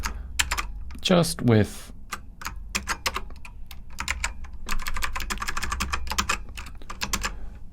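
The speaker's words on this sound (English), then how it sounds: "I can just type it out." Fast typing on a computer keyboard, a dense run of quick clicky keystrokes throughout, close and fairly loud, with a brief voice speaking near the start.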